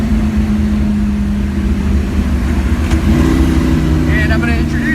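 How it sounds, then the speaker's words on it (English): Ford Mustang with a 302 V8 during a ride, a steady low engine drone heard from inside the car, with people talking over it throughout. "So we're going to take you for a ride in this Mustang."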